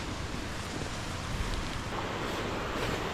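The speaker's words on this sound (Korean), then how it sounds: "폭포 소리가 시원한데" A forest waterfall in a valley pours as a constant, broad rushing roar, steady and moderately distant, with no voices.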